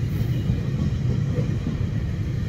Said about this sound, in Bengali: আজকে সানডেতে চলে যাচ্ছে ট্রেন